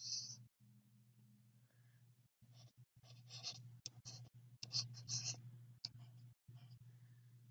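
Hand writing on a board during a math lesson, with scratchy strokes and taps in bursts of varying length over a steady low electrical hum, recorded close.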